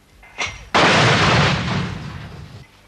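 A mortar fires against army positions in a wartime setting in Bangladesh: a sharp pop, then a loud close blast that rolls and decays for about two seconds.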